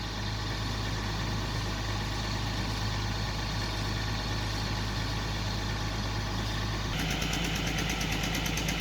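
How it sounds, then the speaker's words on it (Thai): Engine-driven water pump draining water from a pond, a steady loud droning motor hum with constant vibration running throughout, its tone shifting slightly near the end. "เริ่มสูบน้ำออกแล้วนะครับ"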